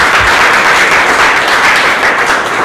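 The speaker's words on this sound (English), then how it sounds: "So let's have a round of applause." A room full of people at a Toastmasters meeting gives a round of applause, close, loud and steady clapping that continues throughout.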